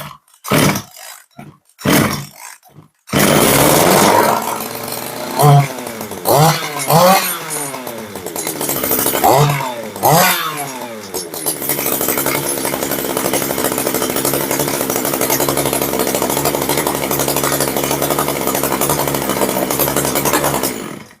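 An Echo CS350 chainsaw with a clutch noise and a kill switch that won't shut it off is yanked by its pull cord several times, then fires and revs loudly in rising and falling bursts before settling into a steady close idle.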